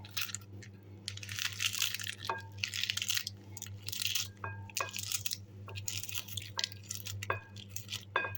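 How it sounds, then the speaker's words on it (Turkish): Spinach being chopped with a knife on a board for spinach börek, a series of sharp, crisp cuts in irregular bursts over a low steady hum, fairly quiet and close with no talking. "Ispanaklarımı doğruyorum."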